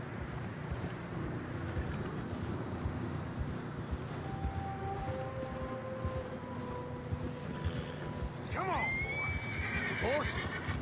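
Horses whinny and neigh in fresh snow in the Red Dead Redemption 2 video game, one sharp neigh rising near the end over a steady bed of wind and faint hoof movement.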